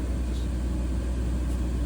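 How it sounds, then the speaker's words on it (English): Deep, steady rumble of a truck's engine brake heard from inside the cab, a continuous low droning roar with no talk over it. "That's the engine brake."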